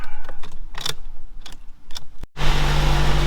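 An old Jeep Cherokee engine catches and runs after a jump start: intermittent clanks and knocks give way to a loud, steady, close engine roar with a constant low hum.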